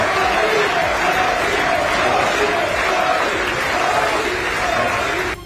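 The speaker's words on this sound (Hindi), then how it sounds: "अमेरिका की संसद कभी तालियों की तड़तड़ाहट से तो कभी मोदी मोदी के नारों से गूंजती रही" Members of the US Congress in a packed legislative chamber for the Indian prime minister's speech, a dense roar of crowd noise, cheering and chanted slogans that stays loud throughout and drops off abruptly at the end.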